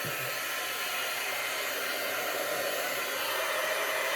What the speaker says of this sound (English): fire up Mr. Milwaukee here and then just blow silver powder all over creation